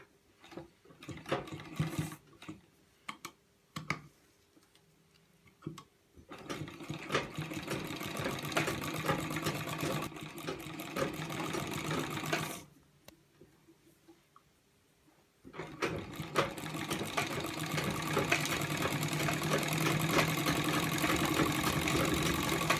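A sewing machine stitches a buckram-backed mirror-work neck onto a kurti, running in several bursts of steady whirring hum separated by quiet pauses with small handling clicks.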